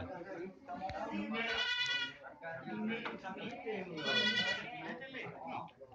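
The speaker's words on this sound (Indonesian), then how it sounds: "Ini kambing." Thai goats bleat loudly twice in long, wavering cries during an artificial insemination session, with people talking close by throughout.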